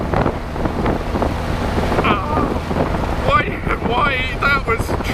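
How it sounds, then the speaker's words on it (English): Wave of water splashing over an open Austin Healey Sprite Bug Eye sports car while driving, a loud broad wash of water and wind noise throughout with brief splashy bursts toward the end. "It was just a wave of water."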